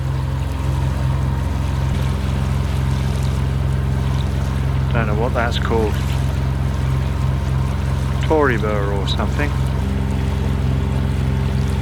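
A boat engine drones steadily and close on the Burnett River at Bundaberg, a constant low hum with wind, while someone talks briefly twice over it.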